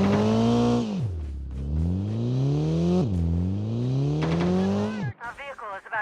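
Vehicle engine in the Call of Duty Mobile battle royale, revving loudly through rising and falling pitch sweeps, dropping off sharply twice before climbing again, then cutting out near the end into brief chatter.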